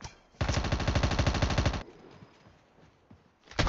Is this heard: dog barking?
no